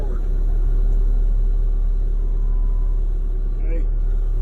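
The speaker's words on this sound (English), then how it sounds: "So I have to unlock the parking brake in order to drive it forward." A Bobcat T770 skid steer rumbles with a steady, loud engine drone as it drives forward after its parking brake is released, and a person talks over it.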